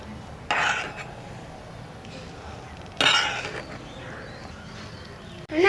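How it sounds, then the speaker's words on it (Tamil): Maggi noodles stirred in a toy mini kitchen pot, giving short metallic clinks and scrapes in a few separate bursts, fairly close and clear against a quiet room. "நம்ம நல்லா கிண்டிடலாம்"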